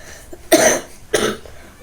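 A sick baby with a chesty, congested cough gives two short, wet coughs close by, with a brief quiet gap between them.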